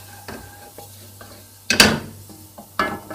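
A spoon stirs spiced tomato chutney paste in a pan with soft scraping taps, a loud scrape-and-clatter near the middle and another firm knock toward the end, a faint sizzle beneath and no talk.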